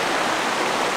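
Kanto Lampo Waterfall in Ubud, Bali, heard as a dense, steady rush of falling water that fills the whole brief moment without pause.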